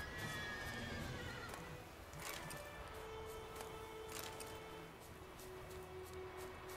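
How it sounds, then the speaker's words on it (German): Horses in the video game The Witcher 3 whinny and neigh amid steady clip-clop hooves and rustling game ambience, a loud close whinny opening and further horse noises following. "Kann ich die Pferde töten?"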